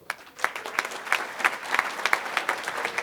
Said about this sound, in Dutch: Maar ik een heel groot applaus voor Alice Postuma.